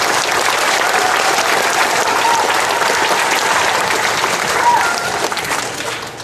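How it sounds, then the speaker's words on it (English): Sustained applause from a school awards audience fills a gym or hall, a dense, even wash of clapping that holds for several seconds and then fades slightly. "let's give them a round of applause for that as well"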